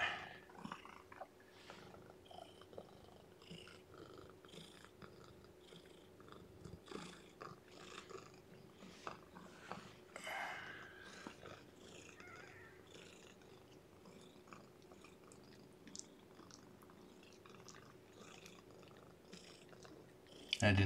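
A nursing kitten gives a very quiet, continuous purr, close and soft, with small rustling and suckling noises mixed in and no talk.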